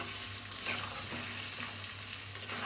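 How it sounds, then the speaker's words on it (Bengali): Potatoes fry in hot oil with tempering spices in a pan, a close, steady sizzle broken by a few soft spatula scrapes, with no talk. "জাস্ট এই ফোড়ন দিয়ে আলুগুলো ভাজা ভাজা হলে একটু আমি জাস্ট একটু জিরে ধনের গুঁড়ো দেবো,"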